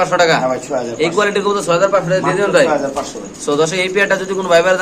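Large Spanish fancy pigeons coo in soft repeated throaty calls at close range while someone talks over them.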